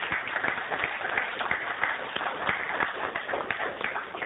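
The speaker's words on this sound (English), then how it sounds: "let's give Dr. Weinberg a round of applause for his comments" Audience applause for physicist Dr. Alvin Weinberg after a question-and-answer session, many hands clapping steadily in a room, a dense muffled patter of moderate loudness with no talk over it.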